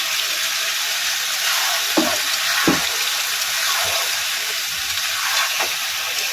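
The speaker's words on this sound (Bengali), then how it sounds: "এই পর্যায়ে আমি কাঁচকলাগুলো দিয়ে কষাবো।" Sliced green plantains sautéing in spiced oil, giving off a broad steady hiss and sizzle close up. A few soft knocks of a utensil break through it, with no voices.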